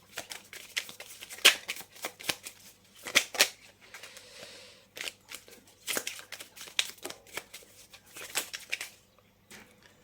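Tarot cards being shuffled and drawn in a quiet room, with repeated close crisp riffles, slaps and papery flicks in irregular bursts, no talk.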